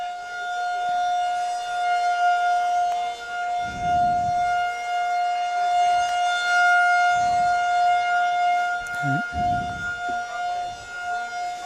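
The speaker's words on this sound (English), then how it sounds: "they're getting ready to start this game up as soon as the siren shuts off" A civil defense siren sounds over a lacrosse field before a game, a loud, sustained steady wail that drones for the whole stretch, with low gusts of wind rumbling beneath it.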